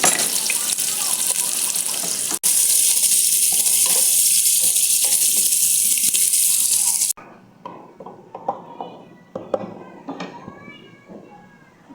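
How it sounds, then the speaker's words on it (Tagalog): Onion frying in a pan while making chicken mandi: a steady loud sizzle for about seven seconds, then cuts to quieter kitchen clatter and scraping. "So, i-fry natin yung onion."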